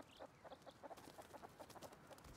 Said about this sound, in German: Was sind die scheiß Hühner, die die Geräusche machen?